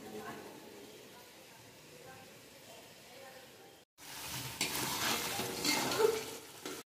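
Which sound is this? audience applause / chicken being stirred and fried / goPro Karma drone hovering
chicken being stirred and fried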